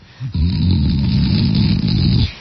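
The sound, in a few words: person imitating snoring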